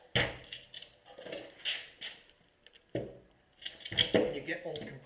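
A thick, extremely stiff steel plate salvaged from an old air compressor is knocked and handled on a workbench, giving a few sharp metallic clanks and scrapes between bursts of nearby talking.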